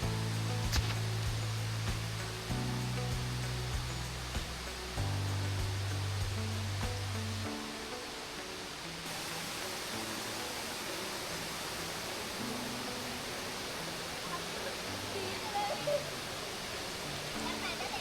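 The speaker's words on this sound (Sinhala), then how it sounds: "දොළපාර සද්දෙයි" A jungle stream at Sudagala runs in steady, even rushing noise through the rainy forest, with a few faint tonal sounds early on before the flowing water carries on alone.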